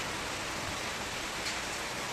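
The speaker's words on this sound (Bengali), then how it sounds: "এই যে বাইরে ঝমঝমে বৃষ্টি পড়ছে" Heavy monsoon-style rain pours outside as a dense, even rushing hiss that holds steady and loud throughout with no voices.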